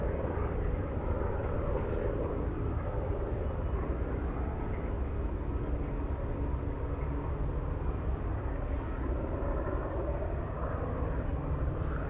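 A large airliner at Anchorage airport roars steadily through its takeoff run, a loud, continuous broadband engine rumble that stays near and constant throughout.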